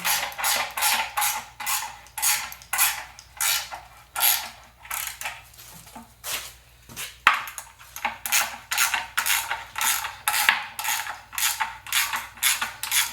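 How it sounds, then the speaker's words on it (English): A ratchet wrench runs down bolts while installing an SM465 transmission onto a 4BT engine. The clicks come in rapid back-and-forth bursts, loud and close and nearly continuous, with a brief pause midway and no voices. "Now we can get these bolts ran down."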